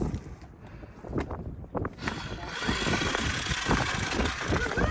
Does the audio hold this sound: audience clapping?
no